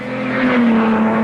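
Salvadori's Aston Martin race car sweeps through the S's, a sustained loud engine drone holding steady across the moment with a slight swell in the middle.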